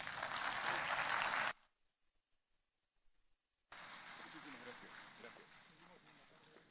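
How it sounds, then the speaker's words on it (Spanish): An audience at an international citizen security forum in Callao, Peru applauds a speaker in a loud burst of clapping. A quiet gap follows, then a second round of applause resumes. "Nuevamente un aplauso"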